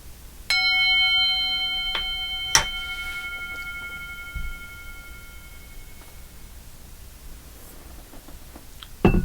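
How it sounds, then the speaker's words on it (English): A single bell is struck once and rings with a clear, sustained tone that slowly fades into a quiet room, followed by a few faint soft knocks. "I'm going to ring the bell."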